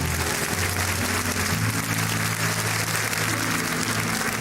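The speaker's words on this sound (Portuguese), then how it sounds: "Uma salva de palmas" An audience at a Catholic sermon applauds in a continuous wash of clapping that stays steady and moderately loud, with a low hum and a few sustained tones underneath.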